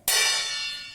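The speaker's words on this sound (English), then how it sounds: "if you take a small plate and strike it with a spoon, it will produce a loud sound like this" A spoon strikes a small plate once, giving a bright metallic ring that rises sharply and fades slowly, heard close and alone.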